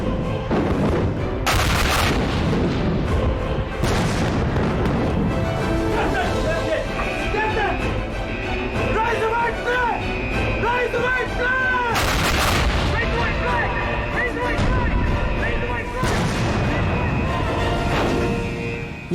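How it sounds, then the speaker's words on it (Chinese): Artillery guns fire from a left-flank battery at British warships in a war history drama battle scene, with several heavy booming blasts spaced across the scene over a rumbling, noisy background, and voices shouting in between. "左翼炮位，开火！"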